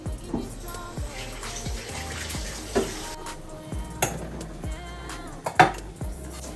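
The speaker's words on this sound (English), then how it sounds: "Just allow the water to drain out." Tap water running in a kitchen sink as a cooked egg is rinsed and drained, a steady close wash broken by several sharp knocks and clinks of dishes or a pot, with no talking.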